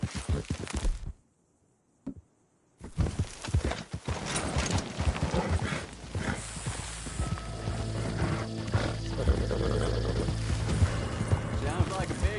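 Horse hooves clop in a quick, uneven rhythm in the Red Dead Redemption 2 video game. The galloping starts after a short silence and continues under game music and effects.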